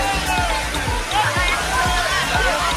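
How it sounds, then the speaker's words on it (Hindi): Sea waves surge and wash continuously onto a crowded beach at Digha, a steady roaring slosh with a babble of many voices from the busy shoreline mixed in throughout. "किस तरह से लहरें मार रही है"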